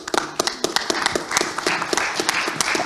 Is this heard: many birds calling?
no